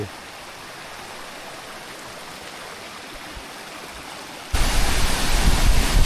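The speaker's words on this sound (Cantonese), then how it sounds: "呢個銀礦灣瀑布流出嚟嘅水" Water from Silvermine Bay waterfall in Mui Wo, Hong Kong, rushes in a continuous, hissing roar, which suddenly grows much louder and fuller near the end.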